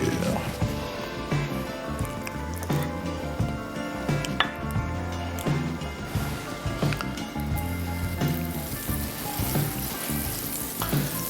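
Butter sizzling in a hot pan while cooking crawfish étouffée, a constant loud crackling hiss with clinks of a utensil, under someone talking.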